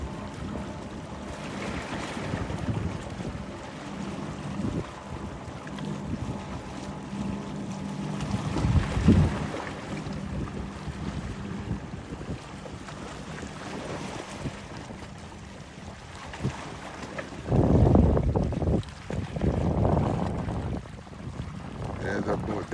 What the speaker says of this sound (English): There's a boat that's going by there.